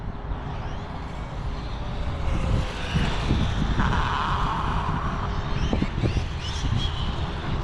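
Losi Promoto SM RC motorcycle doing a slow wheelie, its electric motor whirring in rising and falling bursts over steady outdoor wind noise and rumble, moderately close.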